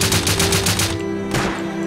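Rapid bursts of automatic gunfire in the survival video game Rust, a fast rattling string of shots, a brief pause, then one more short burst, loud and dry with no talk over it.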